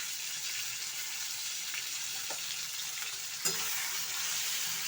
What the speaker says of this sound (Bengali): এটা একটু নেড়ে নেব